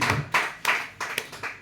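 A church congregation claps in acclaim: a run of sharp, fairly close hand claps that come in loose, uneven bursts, with no talk over them.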